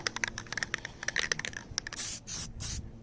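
Rubberized Plasti-Dip sprays onto a BMW E90 grille in short bursty hisses, with a longer, louder spray near the end, close up and with no talk.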